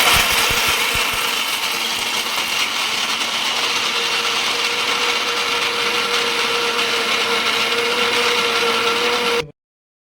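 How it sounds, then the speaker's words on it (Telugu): A mixer grinder whirs loudly and steadily as it grinds coconut, a constant high motor drone lasting several seconds before cutting off abruptly. "ఇప్పుడంతా యాంత్రిక యుగం కాబట్టి మిక్సీలో వేసి మిక్సీ చేస్తాం"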